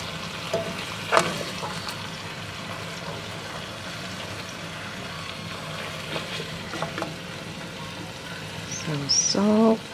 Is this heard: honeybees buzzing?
no